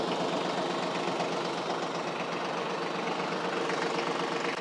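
Diesel engine of a small TYM compact tractor, 2515 or 3025 model, running at a steady idle with a rough, knocking chug, close and constant throughout.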